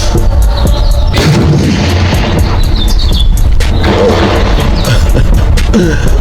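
An Aero M5 AR10 rifle in .308 fires at a 200-yard target on an outdoor range, fitted with a Sig Tango-MSR 1-10 LPVO, giving loud, concussive, booming shots with sharp reports and rolling echoes across the whole stretch.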